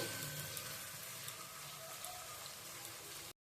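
Tomatoes frying with potatoes in a pan over a medium flame, a steady soft sizzle with faint crackles, quiet and continuous with no talking.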